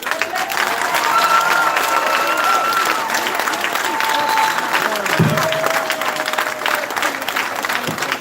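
Graduation audience applause, a sustained loud roar of clapping from a big crowd with cheers and shouted voices riding over it, steady from start to finish.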